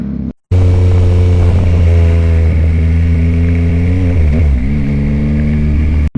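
Motorcycle engine droning loud and steady while riding, its pitch shifting slightly as speed changes, with wind rush and no talk.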